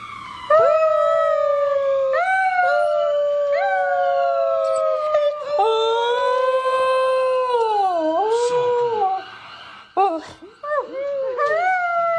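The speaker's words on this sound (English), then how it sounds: "He's called a singing dog for a reason." A singing dog howls loudly and close by in long, rising and falling wails, with a few short yips near the end.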